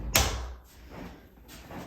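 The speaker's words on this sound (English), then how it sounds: "And the door shuts nicely over it." An interior door swings shut over newly laid carpet with one sharp, close thud, followed by faint shuffling and soft room noise.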